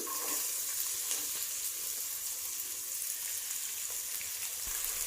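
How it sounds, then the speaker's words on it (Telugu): Green chillies and onions sizzle steadily in a pan, a constant close frying hiss with no talk. "ఆనియన్స్ కూడా వేగుతున్నాయండి"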